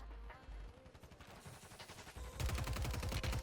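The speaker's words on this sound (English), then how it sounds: "They're shooting at people." Faint gunfire in the video game Warzone, rapid bursts of shots from a fight nearby that grow denser and louder toward the end.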